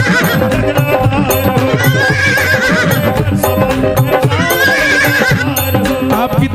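A horse neighing sound effect inside a devotional bhajan about a rider on a blue horse, loud whinnies layered over dense music with clip-clop hoofbeats, running throughout.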